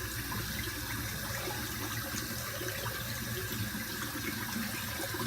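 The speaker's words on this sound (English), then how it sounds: "Just wet it with some cold water." Cold water runs steadily from a tap over an alum block at a sink, a constant close hiss and splash with no pauses.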